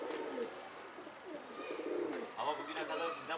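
A domestic pigeon coos in a loft, soft repeated throaty calls close by, with faint voices and bird noise in the background.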